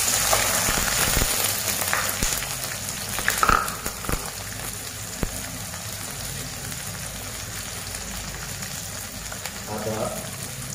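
Whole spices, onion, ginger and garlic fry in hot oil for a beef heart curry, giving a steady, soft sizzle with scattered crackles and a few louder pops.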